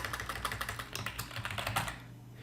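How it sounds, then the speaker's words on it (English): Rapid typing on a computer keyboard, a close, steady patter of clicky keystrokes for a couple of seconds before stopping, with no voice. "I'm going to type in median claim."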